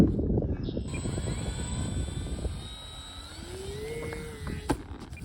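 An FMS P40 Warhawk RC model plane flies over a grass runway in wind, its motor giving a steady whine with a shifting pitch above constant wind rumble, at moderate distance.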